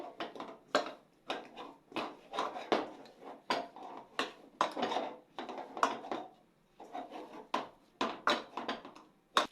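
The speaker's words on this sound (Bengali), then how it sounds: "গরম গরম অবস্থাতে ভালো করে মেখে নিতে হবে, ঠেসে ঠেসে" Hot pitha dough being kneaded and pressed firmly by hand, a steady series of soft slapping, squishing and rubbing thuds at close range, irregular but continuous, with no talking.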